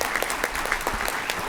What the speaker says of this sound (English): Okay, so we can applaud for that.